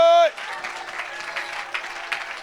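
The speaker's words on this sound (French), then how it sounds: "Acclamez, acclamez, acclamez, acclamez, acclamez, acclamez, acclamez" Applause breaks out from a congregation during a Sunday church service, a dense steady wash of clapping for about two seconds right after a brief sung or called-out tone.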